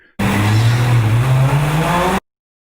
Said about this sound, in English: It's just as the car drives away from the camera